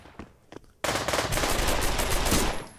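Rapid automatic gunfire from a gun in the zombie multiplayer VR game Pavlov VR, a few scattered shots and then a loud sustained burst of fire close up.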